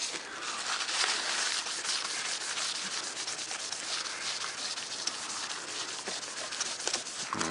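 Steady, close scrubbing as a printed circuit board is rubbed clean with acetone, a continuous dry hiss with small bumps and no talking.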